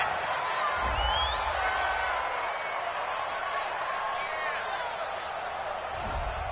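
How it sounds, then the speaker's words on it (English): A home stadium crowd in a Madden football video game, a broad continuous roar of cheering and whoops filling the background, with commentators talking over it. "This home crowd, they're happy with that call."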